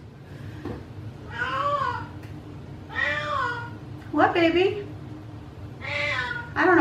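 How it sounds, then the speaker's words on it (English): Pet cat meowing indoors, four drawn-out meows spaced a second or so apart, close and clear, with someone speaking briefly between them. "Oh my goodness, there's my cat again, I just fed her."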